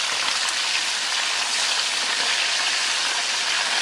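Food fries in a pan with a dense, even sizzle that crackles without pause, close and loud, and no talking.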